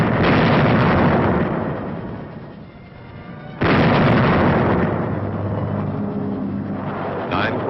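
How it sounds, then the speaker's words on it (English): Camouflaged 105 howitzers on gun carriages fire a bombardment on an old wartime newsreel soundtrack, two heavy, loud booms with long rumbling decays, the second blast abrupt after a lull. "carefully concealed, camouflaged 105 howitzers on gun carriages opened up with a bombardment of warning"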